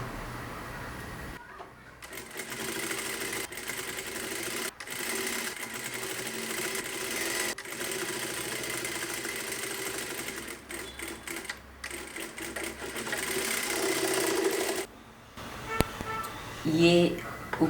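A sewing machine runs in long steady bursts while stitching the belt seam of a four-dart blouse, with a mechanical whir that pauses briefly a few times. A voice speaks near the end.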